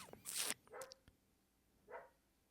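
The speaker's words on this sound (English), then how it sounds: "Excuse the dog noise." A dog barks a few times nearby, short separate barks with quiet pauses between them, in an otherwise quiet indoor setting with no talking.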